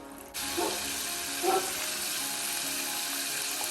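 Tap water runs steadily into a kitchen sink while freshly breaded homemade chicken tenders are rinsed and handled, a continuous close hiss of flow with a couple of brief splashy swells, no talking.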